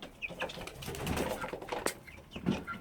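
A Shamo fighting-rooster chick, 58 days old, makes soft cooing and chirping calls with a brief flutter of wings, close by and quiet, with no one speaking.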